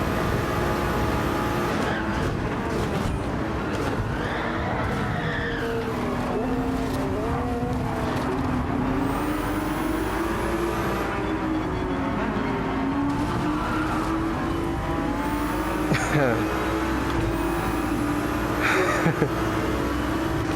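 Racing cars, an Audi and a Porsche among them, approach and scream past with rising and falling engine notes, gear changes and tire squeal, near and loud throughout a long continuous run.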